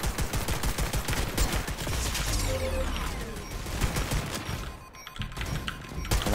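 An automated turret fires steady rapid rounds in the fast-paced PvP shooter Leap, a loud continuous rattle that fades briefly near the end before resuming in sharper bursts.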